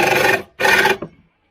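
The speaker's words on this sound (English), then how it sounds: "I can get my saw in here" A hand saw rasps through a wooden deck board in two strong back-and-forth strokes with a short pause between, close and clear, ending with a brief scrape before silence.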